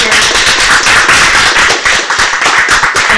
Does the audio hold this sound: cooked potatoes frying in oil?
no